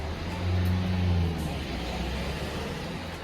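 A car passes at a distance, its low engine rumble swelling briefly and then fading into a quiet, steady outdoor background.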